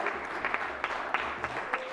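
Applause in a Senate chamber: a steady patter of clapping from a modest group, fairly distant and soft, with a few sharper individual claps standing out.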